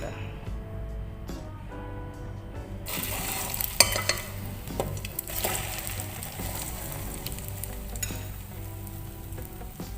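Homemade sweet tikoy, a sticky rice cake dipped in egg, drops into hot cooking oil in a pan and fries with a loud, steady, close-up sizzle and crackle, with a few clatters from utensils. A person talks over it.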